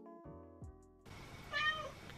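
A cat meows once, fairly close and clear, after a quieter stretch of faint tonal background sounds.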